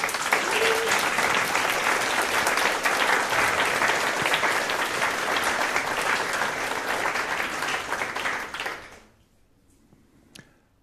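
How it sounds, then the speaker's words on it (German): Loud, dense applause from a crowd of young participants at a youth hackathon welcome event in Hamburg, sustained for about nine seconds before fading quickly into near silence. "dieser Applaus ist für euch."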